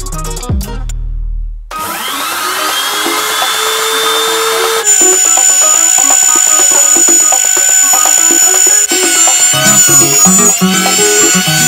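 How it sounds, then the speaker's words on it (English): A power router cuts a notch into a plywood and MDF workbench, starting with a brief spin-up and then screaming loudly and steadily through the wood, its pitch shifting slightly as the cut is made. "So I'm going to route out a little"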